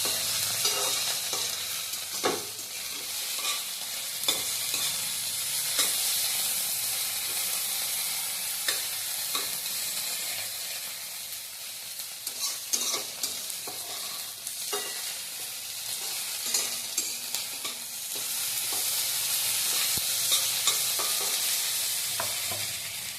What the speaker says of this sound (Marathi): हिरव्या मिरचीचं आणि आलं लसूण पेस्टचं वाटण घालायचं थोडा वेळ तेलावर भाजून घ्यायचं